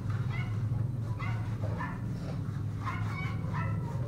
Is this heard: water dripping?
no